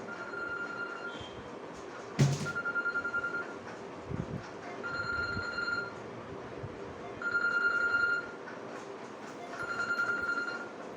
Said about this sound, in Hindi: एक सेकंड, एक फोन आ रहा।